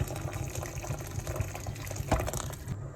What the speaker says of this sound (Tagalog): So, ilagay natin ang mainit tubig.